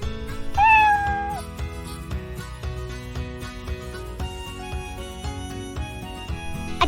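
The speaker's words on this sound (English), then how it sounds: "A cat sound?" A single cat meow rings out near the start, over a busy, steady backdrop of music with rhythmic notes.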